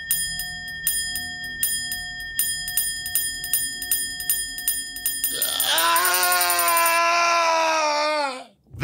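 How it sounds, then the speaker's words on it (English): An old communication bell rings in a steady, rhythmic series of bright metallic strikes, then gives way to a loud, swelling wail-like tone that cuts off abruptly. "He stared at this bell, and as he stared, it began to swing slowly, hypnotically,"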